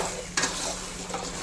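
Chopped mango goes into a hot pan for Kerala-style mango perattu and is stirred, giving a continuous sizzle with a brief scrape or clatter of the spoon near the start.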